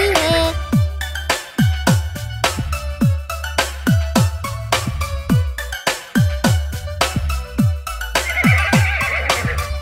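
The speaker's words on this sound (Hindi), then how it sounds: "घोड़ा अपना तगड़ा है, देखो कितनी चर्बी है" Repeated horse neighs and whinnies sound in a Hindi children's nursery rhyme about a sturdy Arabian horse, loud, clustered and rhythmic, over a musical backing track for nearly ten seconds.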